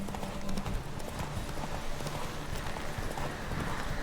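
A horse gallops in a race in The Witcher 3, its hooves drumming in a fast, steady clip-clop rhythm under dense, continuous game ambience, close and loud throughout with no pause.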